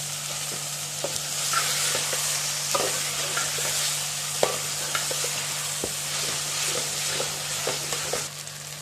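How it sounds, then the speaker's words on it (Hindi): Onions sizzle steadily in a hot pan while a spoon scrapes and stirs with scattered clicks, under a constant low hum. "प्याज को भूनते रहेंगे"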